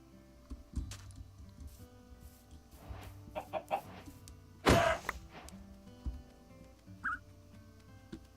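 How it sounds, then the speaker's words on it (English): Chickens in the Minecraft jungle, heard as scattered short clucks and squawks over a low game-ambience bed, with one louder burst midway and a few softer calls, moderately close. "And we found a chicken."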